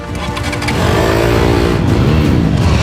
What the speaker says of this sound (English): This is the next part of training right here, motocross.